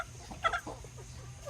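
A broody hen gives one soft, short cluck at close range, with a faint low background hum.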